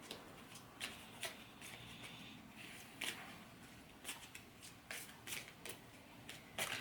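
Tarot cards being shuffled for a reading, a run of soft riffling bursts and flicks at close range with short pauses between them, no talking.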